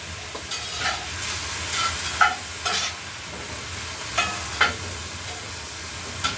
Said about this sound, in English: Okay, you give it a stir.